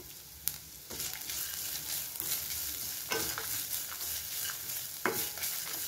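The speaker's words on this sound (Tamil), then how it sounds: "இப்போ அந்த தேங்காய் சேர்த்துக்கலாம் தேங்காவும் நல்லா வந்து வறுபடட்டும்" Grated coconut dry-roasting in a pan for a goat liver gravy, stirred with a steady scraping rhythm and occasional sharp spoon knocks over a soft sizzle, close and moderately loud, no voices.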